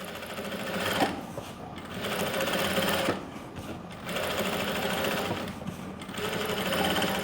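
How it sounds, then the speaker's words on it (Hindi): A sewing machine runs a top stitch along the edge of a pants pocket, its steady mechanical whirr coming in several close bursts separated by brief pauses. "हमें एक सिलाई यहाँ पर लगानी है।"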